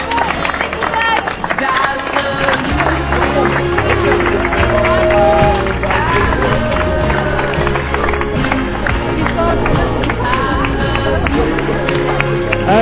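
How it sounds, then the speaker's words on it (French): A crowd of spectators at a trail running race claps and cheers steadily for passing runners, alongside footsteps and background chatter, with music playing throughout. "c'est chouette d'être applaudi comme ça"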